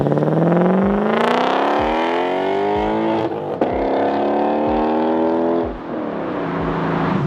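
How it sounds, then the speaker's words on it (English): Audi fitted with a swapped V8 engine revs loudly and close through a series of downshifts, each throttle blip rising sharply then dropping with steady rhythmic gear changes, alone with no talk. "I love the downshifts on this thing."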